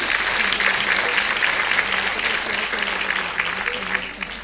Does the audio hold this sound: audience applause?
yes